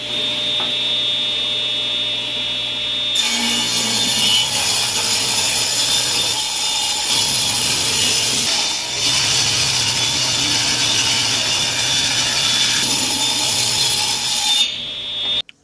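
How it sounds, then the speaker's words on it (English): A maple board is ripped into one-inch strips on a power saw. A steady, loud cutting whine with broadband grinding runs from about three seconds in until near the end, following a quieter stretch. "I start out by just ripping the board into one inch strips."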